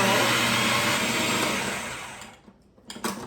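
A food processor whirs loudly as it blends cooked lentils with garlic, running steadily for about two seconds before winding down, followed by a few soft knocks and rattles.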